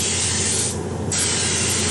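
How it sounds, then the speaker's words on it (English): Winco non-stick butter flavored cooking spray hisses from the can in one steady, close, continuous burst lasting the full stretch, with a short dip in the upper hiss midway through. "I know we don't always have Winco non-stick butter flavored cooking spray"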